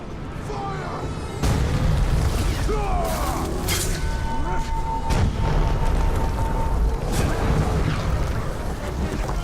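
An explosion in the video game Middle-earth: Shadow of War, a loud low boom breaking in after a quiet opening and rumbling on with mechanical clatter and further impacts over the game's noise.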